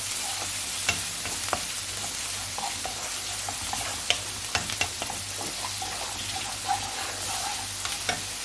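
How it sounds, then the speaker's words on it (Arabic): About two small cloves of garlic fry in a pan while being stirred until golden, a steady close sizzle with scattered clicks and scrapes of the spoon and no talking. "هنحط معلقه توم صغيره قوي، يعني حوالي فصين توم. وهنقلبها لحد ما تاخد معانا لون ذهبي."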